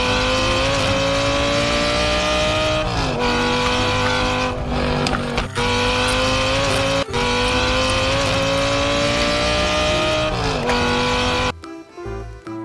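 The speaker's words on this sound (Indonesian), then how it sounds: "Ada supercar berwarna biru." A blue supercar's engine roars close and loud, revving in repeated rising and dropping pitch sweeps with brief breaks between runs, then cuts off abruptly near the end.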